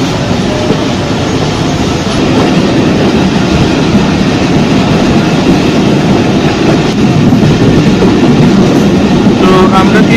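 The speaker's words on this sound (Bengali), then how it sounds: "আমরা সম্ভবত একটি রেল স্টেশনে প্রবেশ করছি। ট্রেনের গতি অনেকটাই কমে গিয়েছে।" Passenger train on the Khulna–Mongla line slowing as it pulls into a station, a steady loud rumble and clatter of wheels heard from aboard, with faint high squeals of the wheels near the end.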